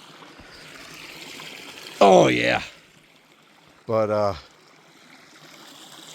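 A creek flows steadily on the Pacific Crest Trail at Kitchen Creek, a constant broadband rush of running water that continues under two short bursts of nearby talk.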